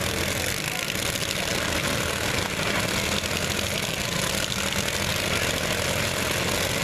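Riding lawn mower engines roar together at a demolition derby, a dense continuous buzzing drone with no pauses, loud and steady throughout.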